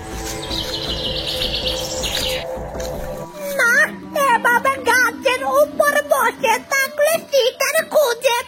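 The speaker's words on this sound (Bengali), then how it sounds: "ওই সামনে অনেকগুলা পাখি ডাকাডাকি করছে।" Several birds chirp and call in a rapid, overlapping chorus nearby, following a stretch of steady background noise with a high continuous whistle.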